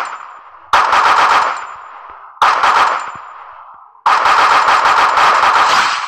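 Rapid bursts of automatic gunfire from a video game weapon, three loud sustained volleys separated by brief ringing decays, with no talking.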